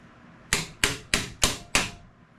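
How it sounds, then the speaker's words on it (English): Five sharp metallic strikes of a hammer on car engine parts in a steady rhythm, each a bright ringing clang that quickly fades, close and fairly loud. "The good old hammer."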